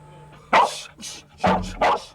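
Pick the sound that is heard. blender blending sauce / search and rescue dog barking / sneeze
search and rescue dog barking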